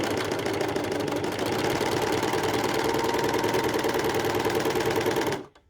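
A serger overlocker stitches fabric with a steady, fast mechanical whirr and rattle that runs evenly for several seconds, then stops abruptly near the end.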